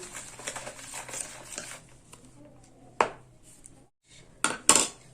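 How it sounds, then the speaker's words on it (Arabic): Spices and oil being mixed for a chicken wing marinade, soft rustling early on, then a few sharp clinks of a utensil against a bowl, close and intermittent. "هننزل بالتوابل كلها وهننزل بالزيت وهندوب كله في بعضه"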